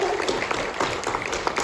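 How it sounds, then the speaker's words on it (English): Audience applause at a live music and storytelling event, a steady patter of many hands clapping, moderately quiet and continuous for the short stretch. "So give Rach a big round of applause, please."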